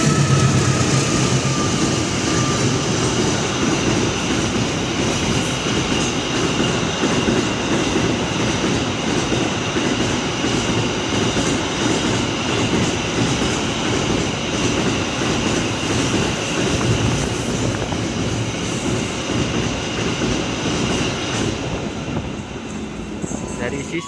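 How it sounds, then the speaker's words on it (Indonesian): A container freight train speeds straight through Buaran station on double track, a loud, steady roar of wheels and rattling wagons sustained throughout, close by. "Dari barat, double track, melintas langsung kereta api angkutan barang kontainer"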